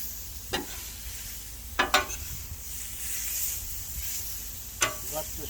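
Ground hamburger with chopped onion and garlic sizzles steadily in a pan, a continuous close frying hiss broken by a few sharp scrapes and clinks of stirring.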